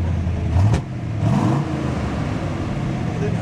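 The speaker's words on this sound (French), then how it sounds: "Elle accélère bien, hein." A Chevrolet Corvette Stingray C2 convertible pulls away, its mid-pitched engine rising briefly in a short rev and then settling into a steady drone, heard at moderate distance over outdoor background noise.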